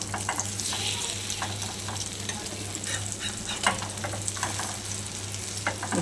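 Three small egg omelettes sizzle together in a pan, a constant close frying hiss broken by soft scrapes and taps as they are flipped, over a low steady hum.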